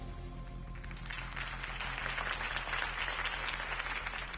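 Crowd applause at a Harvey Dent political rally in the Batman Telltale video game, swelling after a low musical drone and holding as a broad, steady clapping roar.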